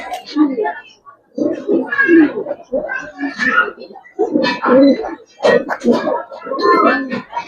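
A male Giribaz pigeon coos in a steady series of low, throaty calls, heard close by but mostly buried under continuous conversation.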